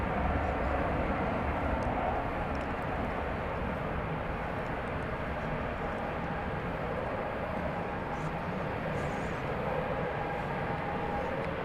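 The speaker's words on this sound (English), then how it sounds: "this aircraft laden with fuel for the long, long journey to Kiwi Land is just now lifting off" A fuel-laden long-haul airliner lifts off at DFW Airport at night, its steady broadband engine roar filling the air continuously, loud and sustained without clear rises or breaks.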